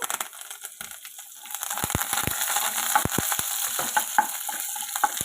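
Dried red chillies and curry leaves sizzle and crackle in hot oil for a tempering in amla pulihora, with a steady frying hiss, sharp pops and occasional stirring scrapes and no talk.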